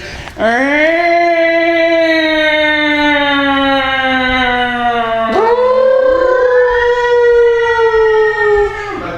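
A loud air raid siren wails in two long sweeps, each rising sharply and then sliding slowly down in pitch, steady and continuous with no talk over it.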